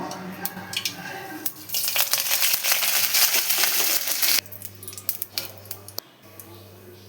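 Mustard seeds splutter in hot oil for chickpea sundal, a dense burst of sharp, irregular pops and crackles over a sizzle, easing into sparser pops in the second half.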